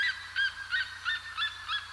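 A seriema in Brazilian cerrado country gives a run of shrill, yelping calls in a quick, even rhythm, about six sharp notes in two seconds, clear and fairly close with no voices.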